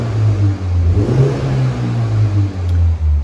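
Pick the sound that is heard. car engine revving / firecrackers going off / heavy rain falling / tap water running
car engine revving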